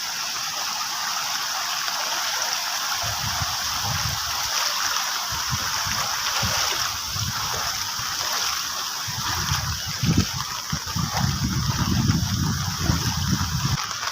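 Heavy monsoon rainwater gushing and spreading across a road in Konkan, a steady loud rushing wash throughout with deeper surging splashes rising in the latter half, no voices over it.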